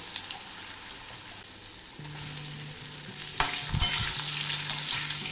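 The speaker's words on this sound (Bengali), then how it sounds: "আলুগুলো ভালো করে ভেজে নেব, নরম করে।" Potatoes frying in a pan with cumin and asafoetida while being stirred, a soft steady sizzle with scraping and clattering stirs growing louder toward the end, with no voices.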